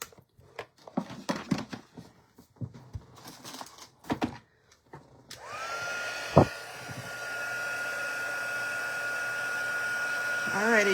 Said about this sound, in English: Now we need to get our little heat tool out.